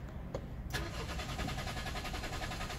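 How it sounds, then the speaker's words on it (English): A BMW F33 with a programmed FEM and a starter lock fault cranks without firing, a steady close starter whir running continuously after a brief click. "see that it's starting but the reason why it's not firing up"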